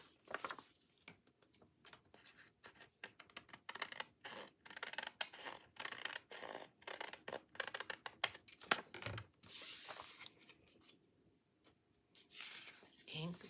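Scissors snip through paper for a small pocket envelope in a craft project, a run of quick close rustling cuts with brief pauses between strokes, and a voice talks in between.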